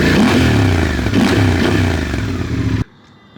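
A 2024 Suzuki V-Strom 800DE fitted with a full header-back Dominator exhaust, dB killer still in, stage 2 intake and tune, revs loudly and crisply up close for a few seconds, then cuts off abruptly into near silence.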